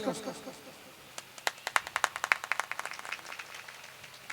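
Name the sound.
audience clapping at a mushaira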